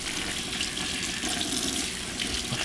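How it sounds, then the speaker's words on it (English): Running tap water pours steadily into a kitchen sink while hands are rinsed off during a shredded beef cooking session, a close, continuous splashing wash with no talk. "Wash my hand off for a second"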